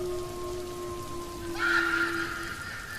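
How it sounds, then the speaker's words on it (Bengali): Heavy rain pours during a storm in a cartoon ghost story, a soft steady hiss under a sustained tone that swells briefly in the middle. "আকাশ ভেঙে বৃষ্টি হচ্ছে।"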